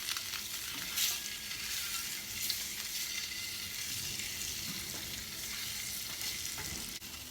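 Boiled eggs fry gently in a pan over a low flame, producing a soft, steady sizzle with faint crackles and occasional light stirring, no voices.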